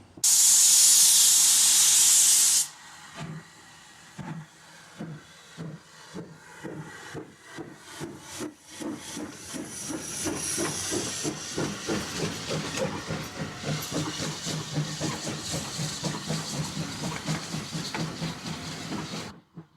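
A 1953 Andrew Barclay 0-4-0 industrial saddle tank locomotive, built for the Millom iron ore mines, releases a loud burst of steam hiss. Steady exhaust chuffs follow and quicken as it works along a short demonstration line.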